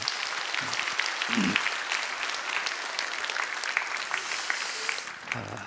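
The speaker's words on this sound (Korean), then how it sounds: "우리 선교사님이어서 여러분 박수 한번 해주셔요" A church congregation applauds a visiting missionary during a worship service, a dense, steady wash of clapping sustained for several seconds before tapering off near the end.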